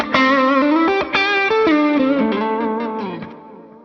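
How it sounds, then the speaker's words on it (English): An electric guitar played through a Fox Gear Echo Sex delay pedal into a valve amp with a compressor always on, a short distorted melodic phrase with echoing repeats trailing away, loud and alone. "this is the Echo Sex Fox Gear delay."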